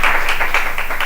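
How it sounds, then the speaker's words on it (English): An audience at a county board of supervisors meeting claps in a hall, giving steady, moderately loud applause for about a second with no talk. "I have a lot of clapping."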